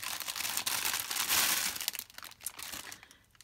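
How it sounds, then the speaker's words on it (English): Crinkly plastic packaging around a leather pen roll case is opened, loud close crackling and crumpling that builds, then thins out into scattered rustles. "I'm going to open this up and then hopefully we can get the crinkling over with."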